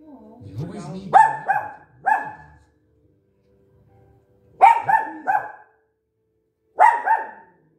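A dog barks in short bursts of two or three, with pauses between, alongside a brief whimpering voice at the start.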